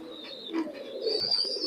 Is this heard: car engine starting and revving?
no